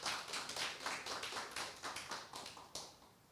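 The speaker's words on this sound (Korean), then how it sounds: "다시 한번 뜨거운 박수 부탁드리겠습니다." Participants at a launch broadcast event receive applause, with an even, rhythmic run of hand claps at a distance, faint overall and continuing steadily.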